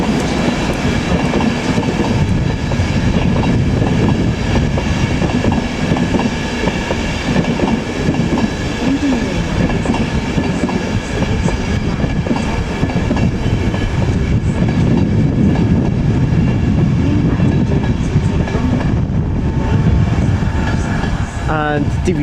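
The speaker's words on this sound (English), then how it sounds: "locomotive hauled service Intercity 225, class 91 leading at the front, going towards Leeds from London King's Cross." An Intercity 225 express with class 91 locomotive 91119 leading and DVT 82225 at the rear passes Doncaster on its way from London King's Cross to Leeds, producing a loud, steady rumble and clatter of wheels throughout.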